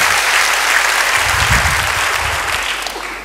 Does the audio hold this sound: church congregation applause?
yes